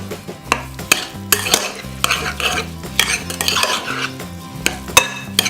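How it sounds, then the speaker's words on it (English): Tabbouleh salad of bulgur wheat seasoned with black pepper being mixed in a bowl, a steady run of close, loud scraping and clattering utensil strokes against the dish with sharp clinks scattered throughout. "I'm gonna mix that all together."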